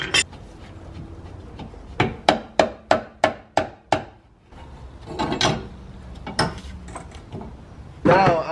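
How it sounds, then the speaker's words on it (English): Hammer strikes on the coilover adjuster of a BMW E46 M3, about eight sharp metallic knocks in a steady rhythm, then scraping and handling noises in a garage with a voice talking at times. "Do one hammer for good measure."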